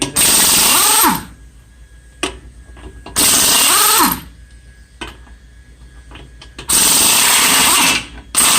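A power tool such as an impact wrench takes the wheel nuts off a Nissan Versa or Sentra in three loud, close bursts of about a second each, with quieter clunks and handling noises in between.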